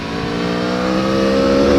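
A 2019 Aprilia Tuono V4 1100 Factory motorcycle accelerating hard, its engine note loud and close, rising steadily in pitch and volume under open throttle with no voices.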